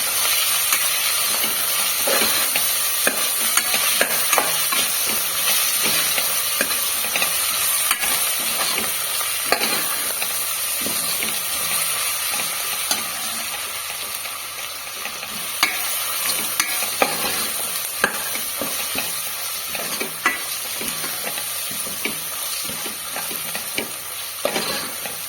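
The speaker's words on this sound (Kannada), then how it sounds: "ಶುಂಠಿ ಹಾಗೂ ಬೆಳ್ಳುಳ್ಳಿ ಹಸಿ ವಾಸನೆ ಹೋಗುವ ತನಕ ಚೆನ್ನಾಗಿ ಫ್ರೈ ಮಾಡ್ಕೊಳ್ಳಿ." Ginger and garlic fry in a pan for a curry-style turkey roast, a continuous close sizzle and hiss with scattered stirring scrapes and clicks, no voices.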